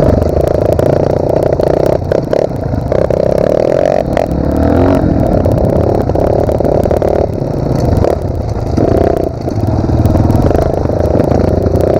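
Pro Tork TR100F mini motorcycle engine running loud and steady as the rider shifts through the gears without a clutch, with slight changes in pitch at each shift and faint clatter.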